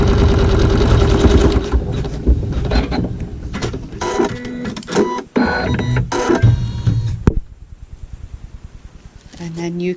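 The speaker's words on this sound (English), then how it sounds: "sew a tack down" A sewing machine stitches a tack down on quilt fabric with regular thread, a fast mechanical rattling run that stops and restarts in short bursts, with a voice talking over it.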